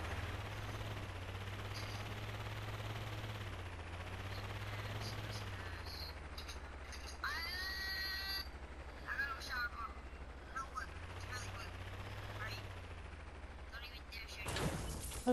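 Bursts of gunfire from the video game Fortnite rattle over a constant low engine hum, with brief volleys in the middle and a louder blast near the end, while a player talks over it.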